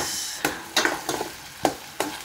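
A spoon stirs sautéed ingredients for home-style spaghetti in a frying pan, giving a soft sizzle broken by five or six distinct scraping strokes in an uneven rhythm, close and fairly quiet.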